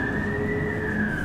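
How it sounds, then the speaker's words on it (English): An emergency vehicle siren sounds outside as a steady, sustained wail, holding one tone with only a slow drift in pitch and clearly present behind a low background rumble, with no talk over it. "Sorry about the siren, guys."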